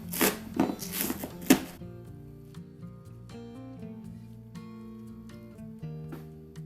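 A knife chopping green onions on a cutting board: a quick burst of several sharp, close chopping strokes, followed by soft background music.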